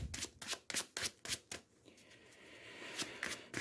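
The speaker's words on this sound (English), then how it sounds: "We'll take Crossbones deck. Give it a quick shuffle." A deck of Marvel Champions cards is shuffled by hand in a quick series of crisp riffling bursts, followed by a softer sustained rustle as the cards settle, close and clear with no talk.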